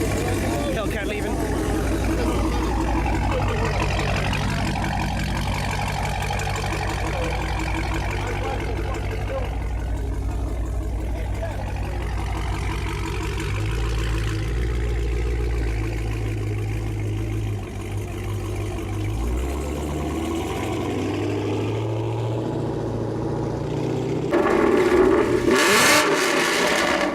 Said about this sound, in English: Hellcat leaving.